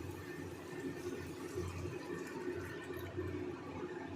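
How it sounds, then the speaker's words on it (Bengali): Water pours into a pan of spiced chickpea curry (kabuli chana) with a soft, steady splashing and bubbling. It sounds quiet and continuous, with no talk. "এবার আমি হালকা একটু জল ঢেলে দেবো"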